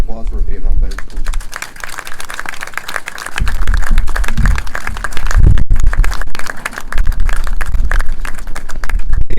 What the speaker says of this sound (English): Can we give a round of applause for our Vietnam veterans, please?